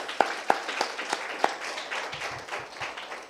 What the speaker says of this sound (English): Let's give Namport a hand of applause, please.